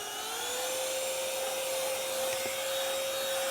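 An ionvac PowerMax vacuum cleaner runs at raised power with a loud, steady whine and a constant airflow rush, close and unbroken, with no talking.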